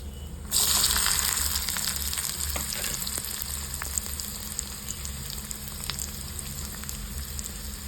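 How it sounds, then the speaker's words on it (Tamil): Onions drop into hot oil in a pan with a sudden loud sizzle, then keep frying close by in a steady crackling hiss. "எண்ணெய் காஞ்சிடுச்சுன்னா இது வெங்காயம் சேர்க்க போகிறேன்"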